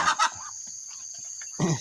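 Chickens and ducks clucking nearby in a farmyard, a few short loud calls at the start and end with quieter scattered clucks in between.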